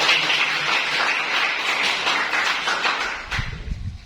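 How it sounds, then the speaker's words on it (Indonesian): Dense, steady applause from a group clapping for a student named Dani, continuous and fairly loud for a few seconds before thinning out near the end. "Berikan tepuk tangan untuk Dani ya."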